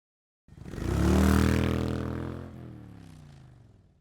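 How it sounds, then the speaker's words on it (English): A motorcycle engine bursts into a single loud rev that swells quickly, then holds a rough, throaty idle that slowly fades, heard alone and up close. "motorcycle."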